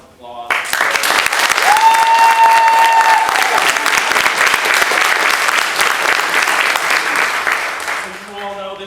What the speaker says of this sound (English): If we could get them all a huge round of applause.